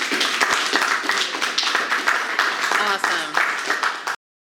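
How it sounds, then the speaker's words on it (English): Audience applause for painter John Marcum after a water-soluble oil painting demonstration: dense, steady clapping from a crowd that fills the room for about four seconds and then cuts off abruptly. "Huge round of applause for John Marcum."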